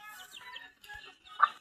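Soft, scattered clucking from a chicken, a few quiet calls with one sharper cluck near the end, heard fairly close in a quiet setting.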